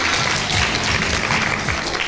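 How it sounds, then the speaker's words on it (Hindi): Children clap together at the Edhi old-age home, a steady wash of small hands, near and even in loudness, with a faint murmur of voices underneath. "तालियां बजाओ ना"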